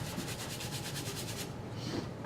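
A shoe is scrubbed with a brush, giving quick back-and-forth rubbing strokes in a steady rhythm for over a second before easing off into softer, lighter brushing close by.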